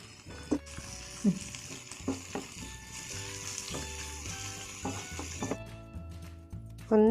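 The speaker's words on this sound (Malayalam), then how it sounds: "നമ്മൾ നേരത്തെ അരിഞ്ഞു വെച്ച ക്യാരറ്റ്, ഉള്ളി, കാബേജ് എന്നിവ നമ്മുടെ പാനിലേക്ക് ഇട്ടിട്ട് നന്നായിട്ടൊന്ന് വഴറ്റിയെടുക്കുക." Chopped carrot, onion and cabbage sauté in hot oil in a pan for a homemade wheat-flour pasta, giving a steady low sizzle punctuated by repeated clinks and scrapes of a utensil against the pan, close by with no talking.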